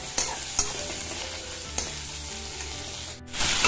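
Ginger garlic paste frying in a pan over a low flame, a close continuous sizzle broken by a few sharp clicks of stirring, swelling into a louder hiss at the end.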